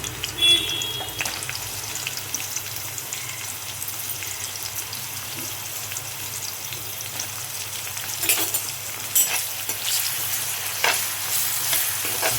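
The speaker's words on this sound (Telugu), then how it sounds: "ఆయిల్ వేడయ్యాక ఉల్లిపాయలు, పచ్చిమిర్చి వేసుకోవాలి." Chopped onions and green chillies hit hot oil in a kadai and sizzle steadily and close, with a few brief clatters near the end and no voices.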